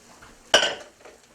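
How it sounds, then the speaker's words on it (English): Drained thin spaghetti lands in a pan of melted onions with a single soft, wet clatter and a short scrape of utensil against the pan, close and fairly quiet in an otherwise still kitchen. "I drained the 1/2 pound of thin spaghetti. I'm going to add it to the onions."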